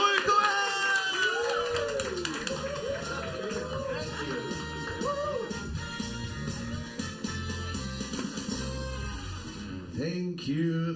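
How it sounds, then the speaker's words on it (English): Crowd at a stand-up comedy night in Haarlem claps, whoops and cheers to welcome comedian Roy Cohen, a steady wash of applause with shouts, and voices heard through it. "give a round of applause, Roy Cohen!"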